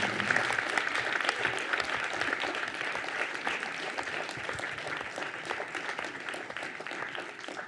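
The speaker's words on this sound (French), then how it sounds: "Je vais vous demander un tonnerre d'applaudissements pour Monsieur Cazeneuve." Sustained applause from a conference audience at Sciences Po Saint-Germain-en-Laye, dense and steady clapping throughout at even loudness, with no talk over it.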